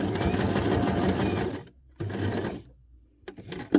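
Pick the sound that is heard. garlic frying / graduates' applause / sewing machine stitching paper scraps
sewing machine stitching paper scraps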